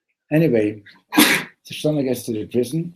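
One sharp sneeze bursts out between stretches of a man's speech during a talk, brief and close, with the voice continuing right afterward.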